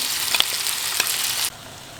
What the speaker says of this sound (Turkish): Hazırladığımız kahvaltılığımızı da tavamıza alalım.